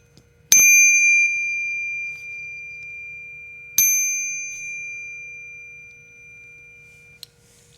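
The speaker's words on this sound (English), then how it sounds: "every bike needs a bike bell" A Knog bicycle bell rings twice, each bright metallic ding sharp at the strike and ringing out for a few seconds before fading, with a faint tap near the end.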